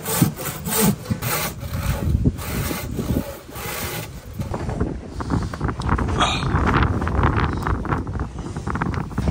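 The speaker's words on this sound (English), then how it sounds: "I can mark that and just hold my saw to that point" A hand saw cuts through an oak rafter in a timber-frame valley roof, its steady back-and-forth strokes rasping close and loud throughout, with some wind noise in the background.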